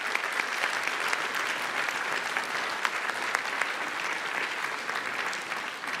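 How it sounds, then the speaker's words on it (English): A conference audience at the opening of the Warsaw Security Forum applauds steadily, a dense, even wash of many hands clapping at moderate volume. "round of applause, please"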